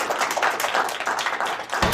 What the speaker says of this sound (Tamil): இங்க இருந்த உங்களுக்கு ஒரு பெரிய கைத்தட்டலை கொடுத்துடலாம்.